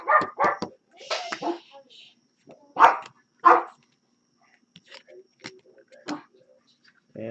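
A dog barks in short sharp bursts, several quick barks early and a few more scattered later, fairly close, with a voice talking in between.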